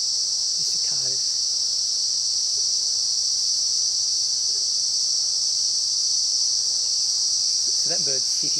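Cicadas in the Daintree rainforest keep up a loud, continuous high-pitched drone throughout, with a few brief bird calls and voices faint beneath it.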